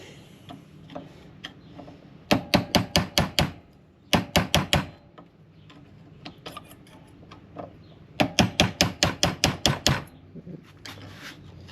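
Hammering on rubber rear brake pad bushings clamped in a vise while replacing the pads and rotors on a 2016 Lexus ES350: sharp metallic knocks close by, fired in three quick bursts of about six to eight rapid strikes each, with short pauses between.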